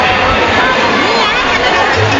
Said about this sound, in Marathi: हे पहा ही गर्दी